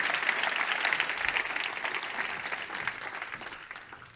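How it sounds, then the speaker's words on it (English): An audience claps after a keynote fireside chat, sustained close applause that holds steady and then gradually fades. "Please give him a round of applause."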